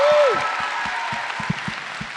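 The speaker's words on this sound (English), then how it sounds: "a bit of a crap round of applause for the late, great Richard Harris" Scattered clapping from a convention panel audience, a thin uneven round of applause with distinct individual claps over a short fading voice at the start.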